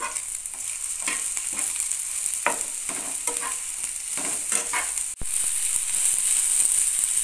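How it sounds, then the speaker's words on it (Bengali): Chopped cauliflower stalks fry with sugar in a pan, a steady hiss of sizzling broken by scraping, rattling stirs of a spatula, with one sharp clack near the end. "চিনিটা দেওয়ার পরে আবার একটুখানি ভাজতে হবে।"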